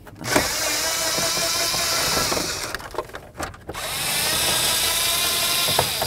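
A power tool drives out screws on the steering column of a 1994-2004 Chevy S-10 pickup, whirring steadily and loudly up close, briefly stopping and starting with a few clicks in the middle before running on.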